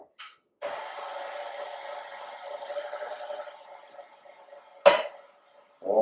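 A roughly thirty-year-old electric kitchen mixer whirring through carrot cake batter, a steady motor hum that starts after a brief pause, fades, then cuts off with a clack before a short restart.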